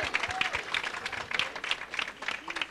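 A church congregation breaks into applause for the Lord, a short burst of rhythmic clapping over a faint background hum.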